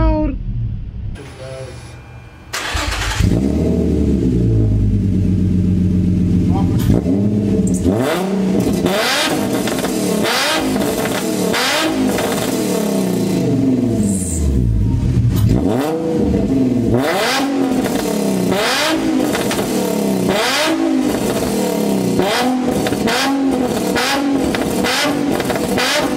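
A loud Infiniti G35 coupe with its muffler removed but resonator still fitted revs hard and repeatedly close by, the exhaust rising and falling in rapid throttle blips over a steady idle, with faint voices in between.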